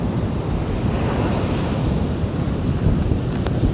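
Ocean surf washes steadily onto the beach at Pantai Sanggar, a broad continuous roar of breaking waves mixed with wind buffeting the microphone, with no voices heard.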